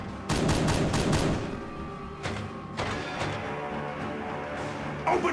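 Rapid volleys of gunfire in a Warhammer 40,000 battle between Dark Angels and Ultramarines: a dense burst of shots opens, then sharper separate cracks follow over a steady rumble of battlefield noise.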